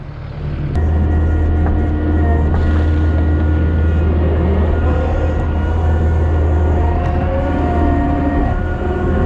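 A skid steer spreading sand backfill over a raised-bed septic leach field makes a loud, steady engine roar with a deep low hum, heard up close and continuously.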